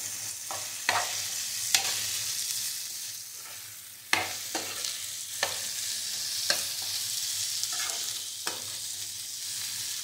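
Chilli soya fries in a pan under repeated stirring, with a constant sizzle and regular sharp scrapes and taps of the spoon on the pan.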